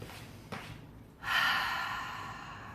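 A deep, slow breath during a yoga session: a soft inhale, then a long, steady, airy exhale that fades gradually, close and alone with no talking.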